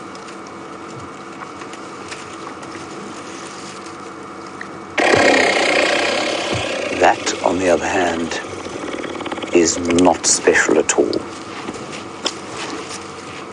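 An elephant breaks wind on a safari drive at Djuma Game Reserve: a long, loud, rough blast of noise for a few seconds, then rumbling sputters, with people talking nearby.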